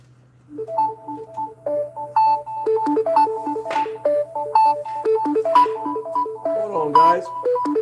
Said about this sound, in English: I had to jump off and answer the phone real quick.